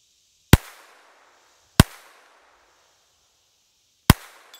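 Three sharp pistol shots spaced over a few seconds, each a loud crack with a short ringing tail, fired at a small 3-inch steel plate at 100 yards; no voices between them.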